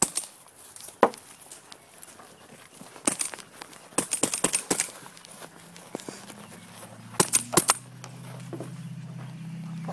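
Toy guns shooting balls during an indoor shootout, with sharp scattered pops and clacks in quick clusters, mixed with scuffling movement and faint background voices.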